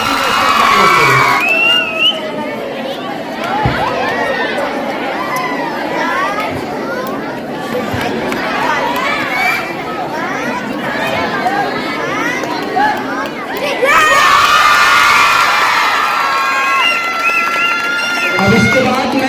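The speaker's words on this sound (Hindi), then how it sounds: "प्लीज आपकी पुरजोर तालियों में नुसरत बाजी का इस्तकबाल करें" Loud, sustained applause and cheering from a large audience fill an open gathering at a school annual function, with shouts and children's voices over a dense crowd roar that swells again near the end.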